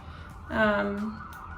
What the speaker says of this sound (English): There's a siren, so pause.